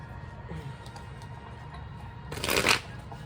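A brief riffling burst of tarot cards being shuffled stands out over a quiet, steady background hum.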